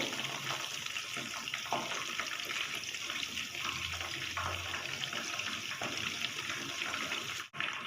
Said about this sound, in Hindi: 4 मिनट हो गए हैं फ़िश को फ्राई होते हुए।